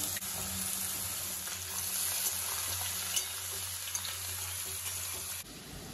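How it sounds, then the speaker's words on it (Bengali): Potatoes and ridge gourd frying in a pan for a Bengali posto dish, a steady close sizzle with soft scraping stirs and a few small clicks, ending with a sudden drop near the end. "আলু ভাজা হয়ে গেছে, এবার আমি দিয়ে দেব ঝিঙে।"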